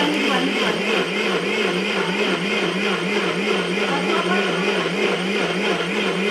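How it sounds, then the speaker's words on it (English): A countertop blender runs steadily and loudly throughout, mixing an orange creamsicle protein shake with a continuous whirring motor drone and a rhythmic pulsing churn. "I'm gonna blend this together."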